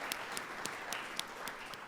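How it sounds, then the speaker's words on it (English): Audience applause at an Ohio mayors' public forum, faint and steady with scattered sharper claps. "let's clap it up, guys."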